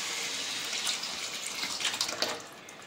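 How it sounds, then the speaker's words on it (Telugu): Water splashing as it is poured into a pot of sambar made with toor dal and tamarind juice, a soft steady gush with light spattering, fairly quiet. "కొంచెం వాటర్ వేసేసుకొని"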